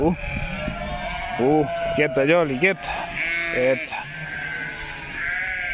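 Sheep bleating close by in a flock, several wavering calls in short bursts while a person speaks calmly to a dog between them, with faint outdoor hiss throughout.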